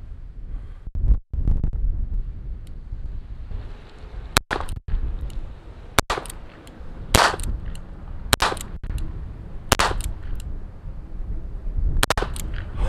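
A Colt King Cobra Target .22 revolver fires ten sharp shots in an irregular sequence outdoors, with steady wind buffeting the microphone throughout.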